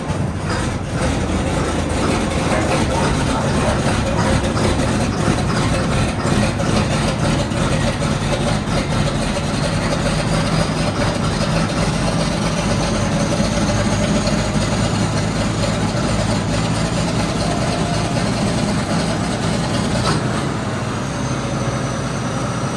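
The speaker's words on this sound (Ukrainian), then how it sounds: "запускає вже нашого Джондіра" A John Deere tractor diesel engine runs at a steady, loud low rumble close by, idling continuously with no breaks after starting up on a farm.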